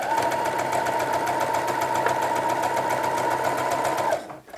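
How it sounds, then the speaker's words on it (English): Sewing machine running continuously at a steady rapid stitch while sewing around a collar curve on the widest stitch length, loud and close, with no talk, stopping abruptly near the end. "switch to the widest stitch length, and then just sew around that curve"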